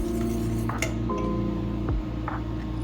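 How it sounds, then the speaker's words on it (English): A spoon works through a thick chocolate orange cake mixture with cranberries in a pot, giving soft squishing sounds and a few light clinks against the metal, fairly quiet and close with no talking. "So you stir everything together once again"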